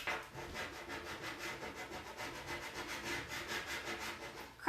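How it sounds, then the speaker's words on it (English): A scraping tool rubs a vinyl decal onto a tumbler in quick, repeated back-and-forth strokes, a quiet, even rasping rhythm heard close up with no talking. "Scraping tool."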